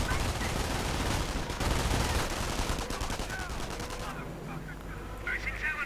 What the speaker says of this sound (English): More Nebelwerfer fire.